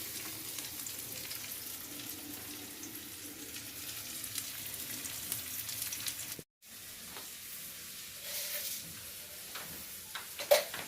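Onion frying in oil with whole spices gives a steady soft sizzle that runs on throughout, with a brief break partway and a few light clinks and taps near the end.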